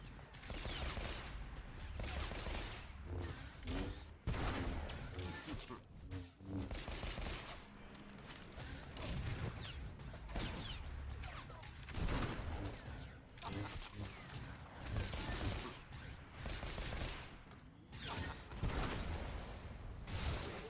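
An enemy opening fire in Star Wars: The Old Republic, a long stretch of rapid, repeated blaster shots and impacts in irregular bursts, layered with combat effects and kept at a moderate level.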